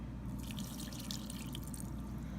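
Water pours into salt for a sourdough dough, an extra 50 grams. It makes a continuous trickling, dripping splash at close range, alone and without talk.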